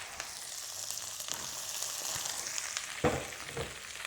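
Brussels sprouts dropped into hot butter in a pan, hissing in a steady, lively sizzle with a couple of brief clatters as they land and shift.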